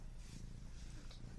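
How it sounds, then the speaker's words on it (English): A cat purrs right beside the microphone, a faint, low rhythmic rumble pulsing steadily throughout. "you can probably hear him purring"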